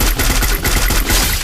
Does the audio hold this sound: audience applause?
no